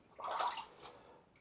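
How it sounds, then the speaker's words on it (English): A safety razor is dipped into a basin of water during a wet shave, giving one brief soft splash and slosh, close and quiet. "as in dipping it in the water often,"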